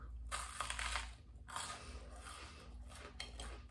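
Biting into crunchy air-fried cheese on toast: a couple of close, crisp crunching bursts followed by quieter chewing crackles, faint overall and with no talking.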